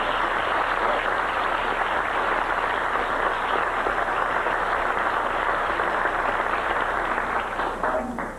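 A theater audience applauds a performing group in a steady, dense wash of clapping that holds loud and even for several seconds before easing slightly at the end.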